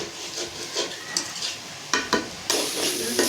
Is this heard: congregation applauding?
no